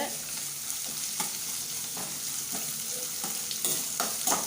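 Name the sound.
sautéing green chilies, ginger and curry leaves in a pan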